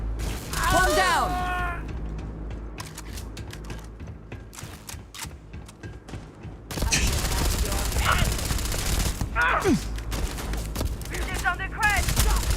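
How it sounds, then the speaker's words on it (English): Gunfire in the Starfield video game: rapid bursts of automatic shots and mechanical clatter rattle across a busy firefight, mixed with shouted voices and game effects, loud and continuous. "Lay down some cover fire!"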